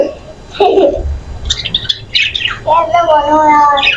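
An injured parrot squawks and chirps in a few sharp, loud calls close by, with a voice talking around them.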